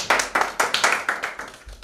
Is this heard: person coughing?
no